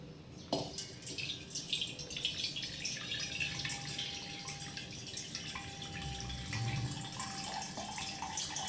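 Hot water runs and splashes into a cooking pot in a home kitchen, with dripping and a gentle trickle, continuing steadily throughout without talk.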